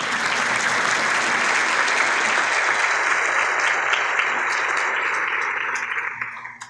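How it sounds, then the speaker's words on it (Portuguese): Sustained applause from a large crowd at a corporate partner event opening, dense and steady clapping that holds for several seconds before tapering off at the end. "Uma salva de palmas."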